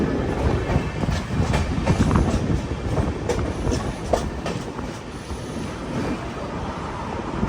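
Patna Express passenger train running between Ernakulam and Varanasi, heard from inside the carriage as a steady loud rumble with rhythmic clickety-clack of wheels over rail joints and rushing wind, continuous throughout with no talk.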